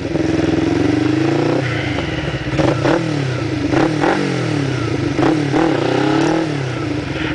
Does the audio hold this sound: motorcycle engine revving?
yes